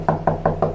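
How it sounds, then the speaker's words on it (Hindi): Cartoon-style sound effect of knocking on a door at night in a horror story: four evenly spaced, hollow wooden knocks, loud and close, with nothing else heard. "तभी दरवाजे पर दोबारा दस्तक हुई।"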